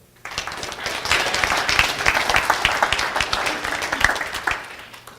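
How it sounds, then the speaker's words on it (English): An audience gives a nice round of applause, rising quickly from near silence into full, lively clapping from many people, staying strong before fading out toward the end. "So give him a nice round of applause."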